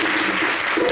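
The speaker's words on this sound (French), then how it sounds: "Est-ce qu'on peut l'applaudir, s'il vous plaît?" An audience at a live television show applauds in a brief, steady burst of clapping that fills the whole second at moderate loudness.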